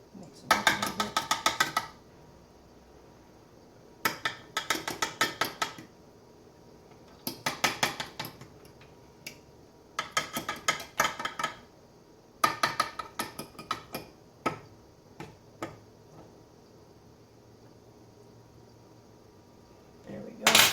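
A fork beats keto breakfast muffin ingredients in a dish, giving quick bursts of rapid clicking and tapping separated by short pauses, close and fairly quiet.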